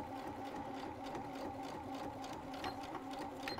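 A sewing machine stitches steadily and continuously, its rapid even whir and needle chatter running alone at low volume without talk.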